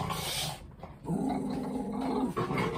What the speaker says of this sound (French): mon chien jappe parce qu'à côté, il y a 2 huskies dans la maison